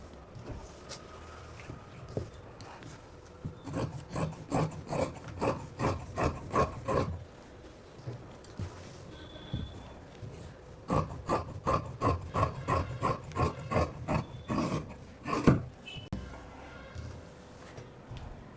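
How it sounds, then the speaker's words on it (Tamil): Scissors cutting chudithar fabric along a marked line, heard as two bursts of rapid, rhythmic rasping snips, close and fairly loud, with a short pause between them and no talking. "இந்த லைன்லேயே நான் வந்து கட் பண்ணிக்கிறேன்."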